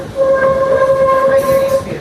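A Santa Cruz Big Trees and Pacific excursion train moving along a mountain line, a loud steady rumble of the cars with a sustained tonal ring running throughout, close by, with no talk.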